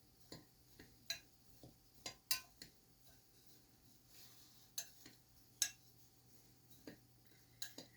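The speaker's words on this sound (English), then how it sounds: "So I'm going to give this a good stir." A utensil stirring dry baking ingredients in a bowl, giving quiet irregular clinks and taps against the sides, about a dozen light knocks spread across several seconds over a soft scraping background.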